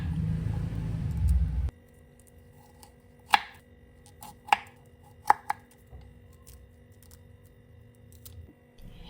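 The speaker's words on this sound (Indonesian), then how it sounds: "selanjutnya kita akan potong-potong brokolinya jadi beberapa bagian" Broccoli being cut into pieces with a knife in a home kitchen, heard as a few sharp, separate chopping strikes on a board after a brief low rumble, spaced apart with quiet between them.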